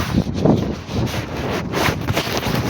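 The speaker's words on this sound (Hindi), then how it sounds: "बहुत तेज़ हवा चल रही है यहाँ पर" Strong, steady wind roars and buffets loudly on the Ganga Choti mountain peak in Kashmir, gusting throughout with a rough, blustery rush.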